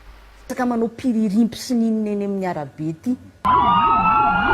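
A person talks briefly, then a loud wailing emergency vehicle siren in traffic in Madagascar cuts in near the end, its pitch sweeping up and down in a steady cycle.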